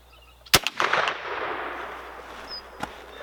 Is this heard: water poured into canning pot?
no